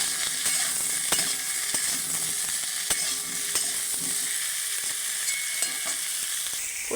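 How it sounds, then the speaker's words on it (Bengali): Cauliflower and potatoes sizzle steadily in hot oil in a pan, with a spatula scraping and stirring at intervals; close, continuous frying with no talk. "ফুলকপি আর আলু ভালো করে ভেজে নেব।"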